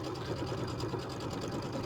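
A sewing machine running a quarter inch seam with a J foot on a piecing stitch, a soft, steady, rapid mechanical whir with no pauses, fairly quiet and close.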